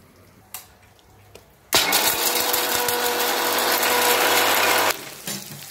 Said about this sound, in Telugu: సో వీటిని అయితే మిక్సీ పడదాం.